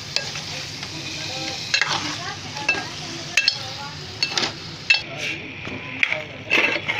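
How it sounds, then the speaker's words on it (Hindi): Marinated chicken hitting hot oil and frying on high flame for shahi murg masala, a loud continuous sizzle with repeated spatula scrapes and light metal clinks close up. "इस तरह ब्राउन हो तो हम उसमें चिकन मैरिनेट किया हुआ डाल देंगे और हाई फ्लेम पे 2 से 3 मिनट तक उसे भूनेंगे"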